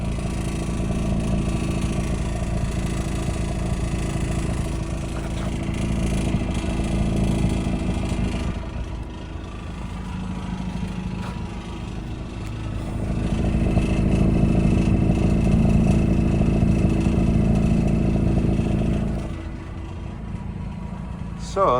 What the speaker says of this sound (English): So that's what the exhaust sounds like.